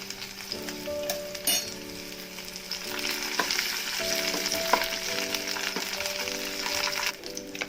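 Shallots, green chilies and ginger garlic paste fry in a pan with a continuous, close sizzle and crackle, alongside a faint steady tonal hum.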